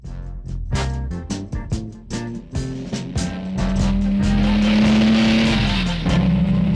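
Cartoon car driving, with a rapid series of sputtering putts and thumps that build into a sustained rising engine drone, loud and close.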